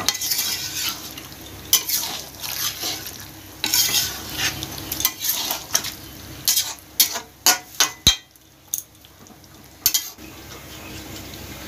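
Potatoes being stirred with spices in a pan while cooking Dak Bungalow chicken, a village-style recipe: a soft sizzle with a run of sharp spoon-on-pan clinks and scrapes, close and clear, no talking.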